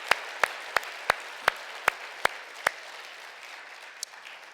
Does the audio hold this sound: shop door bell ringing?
no